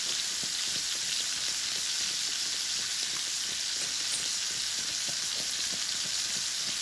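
Steaks sizzle and fry steadily in a pan while being basted with butter and rosemary, a dense close crackle with small spatters running throughout.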